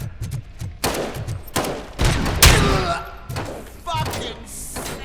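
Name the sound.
gunfire in the video game RoboCop: Rogue City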